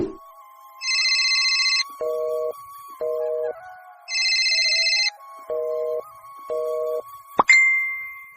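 A phone ringtone plays alone: repeating electronic tone bursts alternating high chimes and lower beeps in a steady pattern, fairly loud, ending with a short click as the call is picked up.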